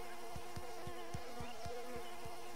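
Swarm of mosquitoes in the Bluey video game, a steady high whining buzz with a faint rhythmic low pulse repeating about every quarter second, no speech.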